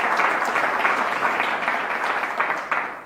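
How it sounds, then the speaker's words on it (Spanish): Audience clapping for a speaker at a Catholic talk, a steady, close burst of applause throughout the short span with no voices over it. "Un aplauso a Leonardo."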